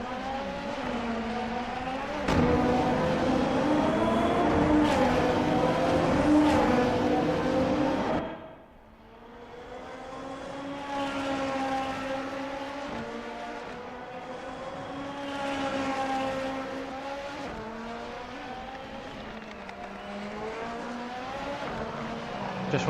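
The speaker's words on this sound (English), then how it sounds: "let everyone hear the noises of these Formula Hololive cars powered by i4 engines, turbocharged i4 engines" Turbocharged four-cylinder race car engines in a video game whine and rev continuously at high pitch at Motegi, shifting up and down through gears, with a brief drop before the roar builds again.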